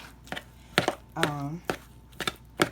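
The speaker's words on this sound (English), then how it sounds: "So I just take my knife through here" A knife cuts through boiled potatoes for Southern potato salad, making a series of crisp, irregular chopping knocks against a board, with a brief stretch of talk in the middle.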